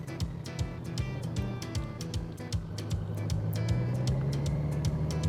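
A 2018 Honda Goldwing motorcycle on the move with Muth turn signal mirrors, steady engine drone and road rumble that slowly rises in pitch as it accelerates, with rhythmic ticking clicks throughout.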